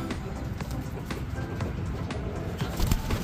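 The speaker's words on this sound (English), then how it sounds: "and some of these cool guys, fantail pigeons." Fantail pigeons coo among ducks and pheasants in an outdoor bird pen, soft low calls under a busy wash of background noise and scattered clicks and footsteps.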